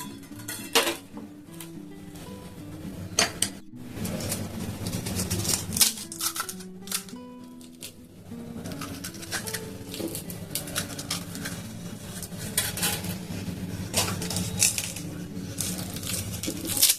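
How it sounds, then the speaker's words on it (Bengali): Crisp fuchka shells are cracked open one after another and set out on a plate, giving repeated sharp snaps and light clinks against the dish, with quiet birdsong far off in the background. "এইভাবে ফুচকাকে ফাটিয়ে নিলাম, দিয়ে সবগুলোকে এভাবে সাজিয়ে নেব"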